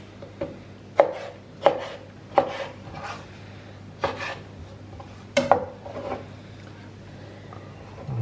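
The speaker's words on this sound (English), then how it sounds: "I've got some roasted red peppers here. Just going to cut them up into chunks." A knife chops roasted red peppers into chunks on a board, giving about a dozen sharp, irregular knocks, close and fairly quiet against a low background hum.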